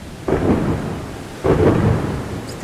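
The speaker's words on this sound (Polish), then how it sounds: "dochodziły grzmoty, a silny wiatr wprost zwalał z nóg" Two deep rumbles of thunder roll in about a second apart, heavy and close, with a steady wash of rain or wind between them.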